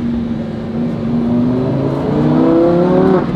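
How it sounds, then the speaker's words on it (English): A Lamborghini's engine rises in pitch as the car accelerates while driving, a loud close-up rev climbing through gears with layered harmonic drone. "Literally the best part about this car is the sound that it makes as you're driving it."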